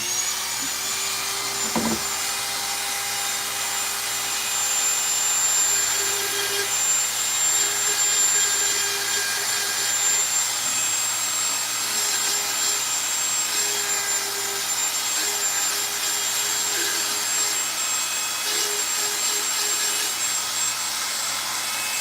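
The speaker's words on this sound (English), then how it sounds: "Now I've just put on another small carbide round carving bit, but this one here is the smallest one" A rotary tool fitted with a very small carbide round carving bit runs steadily and close, giving off a continuous high-pitched whine with slight shifts in tone as it cuts, and no talking.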